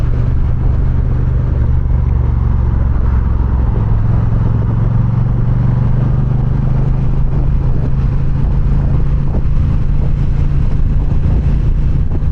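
A Honda CBR650R motorcycle riding on the road, with a loud, steady engine drone and heavy wind rumble throughout, the engine note shifting slightly partway through, with no talk.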